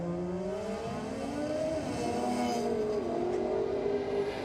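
Drag race cars, one a small Mazda, launching down a night drag strip in Sydney, a sustained engine roar with rising and shifting revs, heard from some distance.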